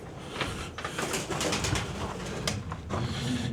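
Pigeons coo steadily inside an abandoned old cottage, close and fairly loud, with a few wing flutters mixed in and no one speaking over them.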